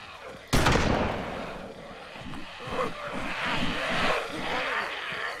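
A shotgun blast in the zombie survival game DayZ: one sharp loud report that trails into a rumbling, echoing tail with low engine-like drone underneath, no talk.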